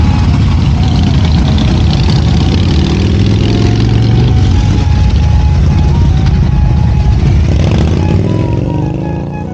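Several motorcycles from a biker group gather at the Tri-State overlook at High Point, New Jersey, their engines rumbling and idling loudly and close by throughout, with a rising growl toward the end and faint voices underneath.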